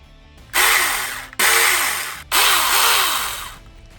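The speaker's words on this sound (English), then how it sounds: "For safety reasons, you need to press this and the trigger to engage the motor." A cordless power tool's electric motor, triggered three times in a row; each burst spins up to a loud, high whine that holds, sags slightly, then cuts off abruptly, with brief near-quiet gaps between.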